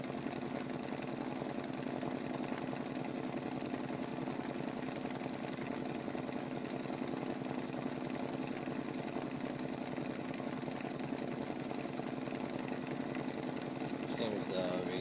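A Hitachi motor spins a wheel well beyond its designed RPM, giving a steady, loud mechanical whine and buzz that holds unbroken throughout, with a brief change near the very end.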